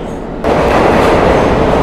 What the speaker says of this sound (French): J'ai raté le métro!